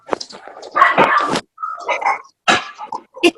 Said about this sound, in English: Oh my gosh, my dog's here.